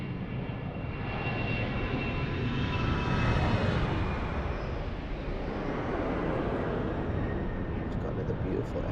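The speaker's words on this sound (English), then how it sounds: "You'll see an Emirates 777 departure." An Emirates Boeing 777 jet departs from Lisbon Airport, a steady, heavy engine rumble with a broad roaring wash that swells slightly midway and stays loud throughout.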